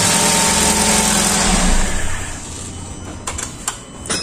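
A car engine runs at idle with a steady, buzzing hum, close and loud, then drops away partway through, leaving a few faint clicks and knocks.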